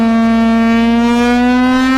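A Lion King siren blares a loud, steady, deep tone rich in harmonics, slightly rising in pitch, with a pulsing low undertone and nothing else audible.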